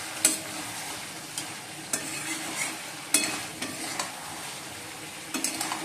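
Chicken cooking down in a pan on a home stove, with a low sizzle under repeated clinks and scrapes of a spatula stirring it at an uneven pace.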